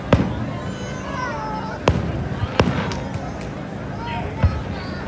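Fireworks bursting at a Fourth of July show in North Cape May, with several sharp booms spread across the clip, some close together, over a steady background murmur of spectators.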